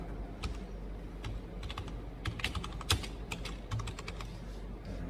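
Computer keyboard keys pressed in irregular bursts of close, crisp clicks while a document is typed, steady and moderately loud with no talking.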